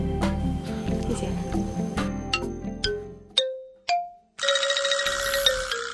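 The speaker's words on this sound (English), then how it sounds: "Awareness Wi-Fi Doorbell is available paired with Ding Dong doorbell receivers." A Forrinx Wi-Fi doorbell receiver sounds a bright two-tone ding-dong chime followed by a sustained melodic tune, heard up close after a stretch of background music.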